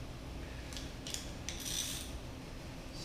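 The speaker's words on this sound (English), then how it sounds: "Now I'm gonna tighten up the other 3 bolts here." A 10 mm socket on a ratchet clicks in a few short bursts while tightening water pump bolts on a Toyota 4AGE engine, quiet and close with no talking.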